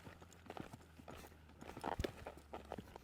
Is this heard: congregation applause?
no